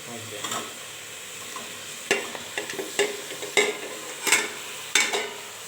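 Tomatoes frying in a pan, stirred with a spoon that scrapes and taps at irregular intervals over a soft background sizzle, with no talk.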